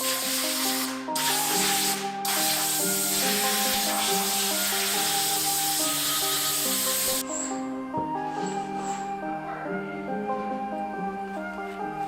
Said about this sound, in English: grab an air blower, air blow it off